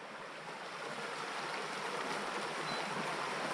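The Melendiz stream rushes through Ihlara Valley in a steady, full broadband flow of moving water, close and continuous, with no voices over it.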